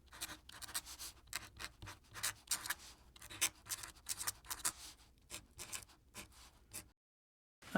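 Pen scratching out notes on paper while planning a fabric clutch sewing project, with a steady run of short, close strokes and pauses, no talking, ending in silence.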